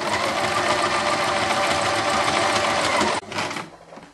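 A sewing machine stitches a removable velvet Peter Pan collar in a steady, fast, close whirr that runs without a break, then cuts off abruptly near the end, leaving a brief fading hum.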